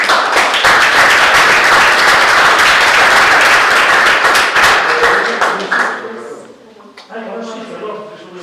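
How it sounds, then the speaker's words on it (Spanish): An audience at a conference applauds loudly and steadily for about five seconds, the clapping thinning out and fading before a lone voice begins talking at the end. "un aplauso para ellos"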